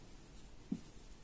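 Marker or chalk writing on a classroom board during an English grammar lesson on the present simple tense, heard as soft scratchy strokes with one brief louder tap, faint over low room noise.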